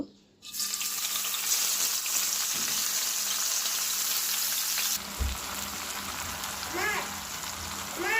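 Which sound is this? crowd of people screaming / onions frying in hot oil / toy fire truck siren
onions frying in hot oil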